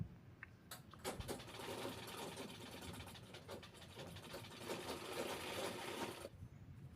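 Sewing machine stitching the side seams of a long dress made from a reused Paithani silk saree, a steady fast whirring run for several seconds that cuts off near the end, fairly quiet.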